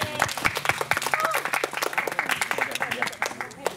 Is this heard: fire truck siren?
no